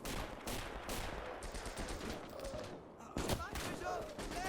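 Gunfire in the Stalingrad close-quarter battle of the video game Gates of Hell, with dense overlapping rifle and machine-gun shots rattling at mid distance and a louder burst near the end.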